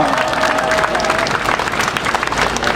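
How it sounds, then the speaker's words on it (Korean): Dense, steady applause from a street crowd at a Catholic outdoor mass during a climate justice march, honoring a Catholic pungmul drum band. The clapping is loud and continuous for the whole stretch, with a faint tone and murmur underneath. "가톨릭 교회행동 풍물패 여러분, 힘찬 박수 부탁드리겠습니다"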